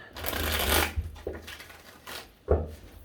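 Tarot cards being shuffled close by, a long riffling burst followed by a few shorter flicks and taps.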